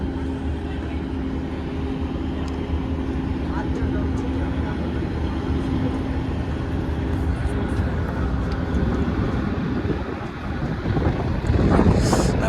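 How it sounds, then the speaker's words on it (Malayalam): Cold wind rushes steadily past the microphone aboard a Kashmir train between Banihal and Srinagar, a constant broadband roar with rumbling low end that swells louder near the end. "നല്ല തണുത്ത കാറ്റടിക്കുന്നുണ്ട്."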